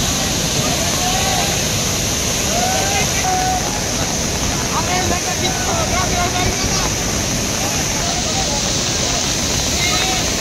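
Floodwater pours over the Bindusara dam spillway under red alert, a dense, unbroken roar of rushing water that stays loud and steady throughout, with someone speaking over it.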